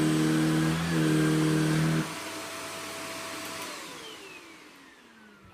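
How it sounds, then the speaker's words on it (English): Shark Powered Lift Away NV680UKT upright vacuum cleaner running on carpet: a loud motor whine that cuts out after about two seconds, then winds down with a falling pitch fading to near silence. "This machine's got such great suction."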